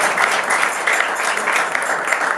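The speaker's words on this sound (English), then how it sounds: "That's a clap." Audience at a school headmaster's social breaking into steady applause, a dense even wash of many hands clapping at moderate distance, sustained throughout with no talk over it.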